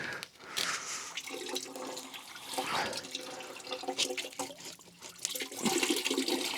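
Coolant pours out the bottom of a Peterbilt 359 radiator, splashing and gurgling in an uneven stream, fairly faint and close, with brief spikes as the flow surges.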